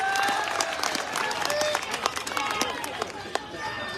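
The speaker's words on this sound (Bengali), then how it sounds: "জোরে একটি করতালি" Applause rings out at a tournament grand final in Chattogram, a busy wash of clapping with sharp individual claps standing out, mixed with crowd noise and voices talking over it throughout.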